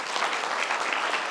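Loud, sustained applause from an audience at a Buddhist vihara gathering in Nandora, Amravati, a dense steady clapping that fills the whole brief moment without voices over it.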